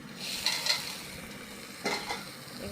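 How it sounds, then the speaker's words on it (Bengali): Fried cauliflower florets stirred into a spice paste frying in a pan, giving a steady low sizzle with a few scraping stir strokes of a spoon against the pan, close and fairly quiet, no talking. "এবার ভেজে রাখা কপিগুলো এর মধ্যে দিয়ে আর একটু নেড়ে নেবো, তারপর জল দিয়ে দেবো।"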